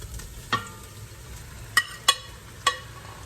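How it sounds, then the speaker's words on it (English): Meat with its juices tipped back into a pot of softened onions for a Sunday roast, heard as a quiet fry with four sharp utensil knocks against the pot. "we'll go ahead and add the meat back into the pot"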